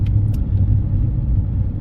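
Steady low engine rumble and road noise from a car driving along, constant and close, with no talking.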